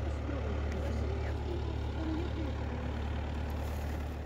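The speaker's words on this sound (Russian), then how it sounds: "Тракторок идет." Small tractor clearing sidewalks passes by outdoors, a steady low engine drone at moderate distance with faint scraping and street noise, no clear talk.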